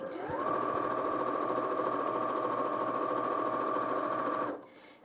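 A Janome M200QDC sewing machine runs steadily at top speed, a loud, close, continuous whir with a high sustained tone, holding even for about four and a half seconds before stopping abruptly.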